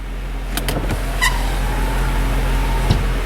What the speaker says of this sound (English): These rear windows are actually power operated. They go right up and down.